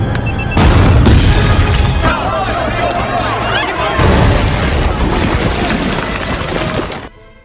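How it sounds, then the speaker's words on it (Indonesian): Film scene of a bomb hidden under the floor exploding beneath a Russian president, a loud booming blast with shattering debris, followed by a long rumbling, crackling aftermath under spoken narration. "Evelyn meledakkan bom yang dipasang di bawah lantai"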